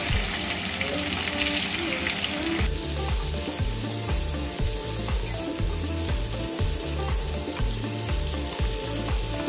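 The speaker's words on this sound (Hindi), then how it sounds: "इसको तड़के में ऐड कर देते हैं, और साथ ही इसे अच्छे से मिक्स कर लेंगे एक बार।" Loud, close sizzling as raw mango slices hit hot tempering oil, crackling steadily with rhythmic scraping and stirring throughout.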